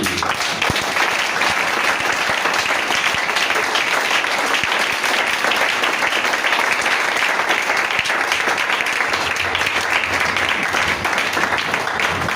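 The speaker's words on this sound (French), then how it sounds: "Est-ce que vous pouvez acclamer pour lui?" A church congregation gives sustained, loud applause during a French-language sermon, a dense, even roar of clapping hands that lasts the whole stretch without letting up.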